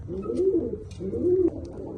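A homing pigeon coos close by, two drawn-out, throaty rolling calls with a brief pause between them, alone and fairly loud.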